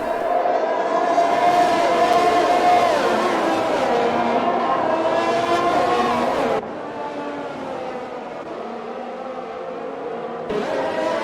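A line of four Formula 1 cars in a racing video game run nose to tail at the Hungaroring, engines droning loudly and continuously with shifting pitch, then dropping slightly in level partway through.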